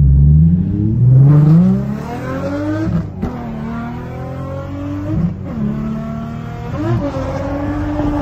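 A Nissan 350Z drifts on a raceway with a loud, close engine that revs and holds high through a sweeping slide, with shifts and a brief lift midway, and no talk.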